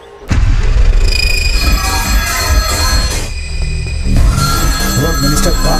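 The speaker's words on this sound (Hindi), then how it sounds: "मिनिस्टर बार-बार फोन किया जा रहा है। बहुत बार फोन कर चुका है भाई" A telephone rings repeatedly in a Hindi-dubbed film scene, the loud electronic rings standing out over background music and sound effects.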